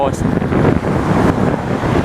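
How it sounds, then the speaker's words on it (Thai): Strong headwind buffeting a cyclist's microphone on a ride near Sam Roi Yot, a loud, rough, broadband roar that fills the moment without letting up. "แล้ววันนี้ลมค่อนข้างแรงนะครับ"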